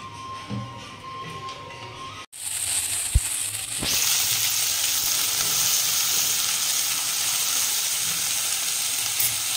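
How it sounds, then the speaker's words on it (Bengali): Vegetables fry in a little oil in a wok. After a quieter start and a sharp knock, a loud, even sizzle begins and continues to the end. "আর এটা আমি সবজিগুলো ভাজছি, হালকা একটু ভাজবো"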